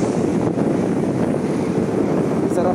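Steady wind blowing outdoors beside a mall under construction in Uptown Bonifacio, a continuous broadband rush buffeting the microphone at constant loudness with no clear breaks.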